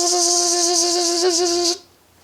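A voice imitates the Doctor Who sonic screwdriver with a sustained, steady, high warbling whine that holds for under two seconds and then cuts off abruptly.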